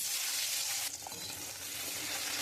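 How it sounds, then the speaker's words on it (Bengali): Potatoes fry in fish-frying oil seasoned with whole garam masala, cumin and bay leaf, giving a steady, loud broadband sizzle that dips briefly and then carries on with soft stirring scrapes. "আমি আলুগুলো ভেজে নেব"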